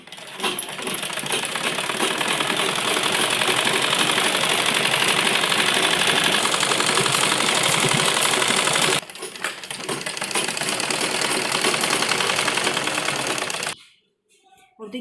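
A sewing machine runs fast and steady, stitching a pressed seam along an Afghani salwar. The close, dense mechanical whir pauses briefly midway, resumes, then stops near the end.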